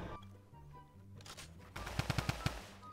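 A short burst of mobile-game gunfire, five or six sharp evenly spaced shots fired in quick succession, coming after a quieter stretch of game music and ambience.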